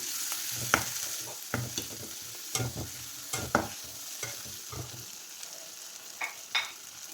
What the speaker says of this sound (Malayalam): എല്ലാം കൂടി ഇട്ട് കൊടുത്ത് നമുക്ക് ഒന്ന് വഴറ്റി കൊടുക്കാം